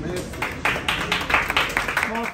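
An audience at a Mafia game workshop claps in a short burst of applause, several hands beating quickly together, with a voice talking over it.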